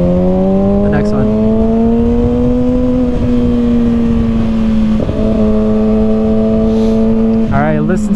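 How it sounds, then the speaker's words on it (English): A 2021 Kawasaki Ninja ZX6R KRT Edition sport bike drones loudly up close on a night ride, its steady engine tone shifting in pitch with quick rev blips around downshifts near the end. "listen to the downshifts"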